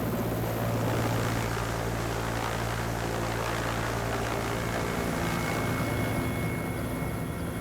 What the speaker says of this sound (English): He's been here for more than a day, waiting on this helicopter.